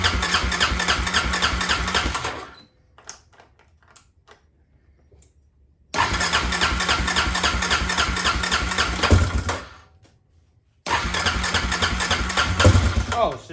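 A Suzuki Eiger 400 ATV with a new starter cranks and fires, running in loud, close bursts with a rough idle. It cuts out twice into near silence before catching again.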